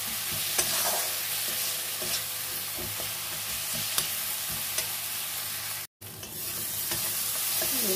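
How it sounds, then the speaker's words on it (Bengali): Turmeric and salt fry in oil in a wok while being stirred, a steady close sizzle with scraping stirs and soft clicks of the utensil throughout, briefly cutting out near the end. "দিয়ে একটু ভাজা ভাজা করে নিই,"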